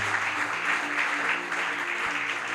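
A church congregation at an evening revival service applauding in acclaim of Jesus, steady continuous clapping from a crowd, moderately loud and close.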